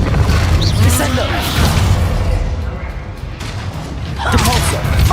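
Descendo spell cast in Hogwarts Legacy, a deep booming magical impact with rumbling low thuds and a noisy crackling wash, continuous and loud, swelling again near the end, with a voice speaking over part of it.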